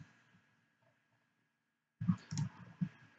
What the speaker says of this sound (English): So I'll right click on it and say run.